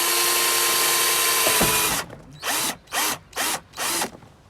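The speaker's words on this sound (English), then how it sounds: "So I'm going to take the drilling machine" An electric drill bores a hole for passing wire in a fence post light. A steady, loud whine runs first, then five short, evenly spaced bursts of drilling follow with nobody talking.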